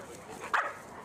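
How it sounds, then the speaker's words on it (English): A small dog gives a single short bark or yelp while stepping in between Rottweilers during a tense meeting, one brief sharp burst over quiet background. "So my little dog is trying to get Bex away from her because she knows she's trying to nip her."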